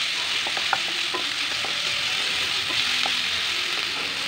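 Cardamom, cinnamon and black pepper fry in oil with ginger, garlic and bay leaf as garam masala is cooked down, making a steady close sizzle with small stirring clicks and pops.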